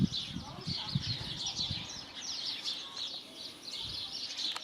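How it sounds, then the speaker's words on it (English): A greenfinch and sparrows feed on seed on a driveway in Lower Hutt, New Zealand, with quick, high chirps and twitters overlapping continuously, and a person's voice heard softly underneath. "That's a greenfinch"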